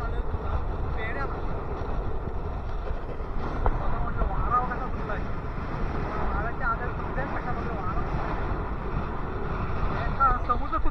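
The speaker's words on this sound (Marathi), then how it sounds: "वारा कसा बघलाय, समुद्र सुद्धा बघा कसा खवळलाय" Strong wind and a rough, stormy sea on the shore make a constant loud roar with microphone buffeting throughout, the surf and gusts blending into one unbroken rush.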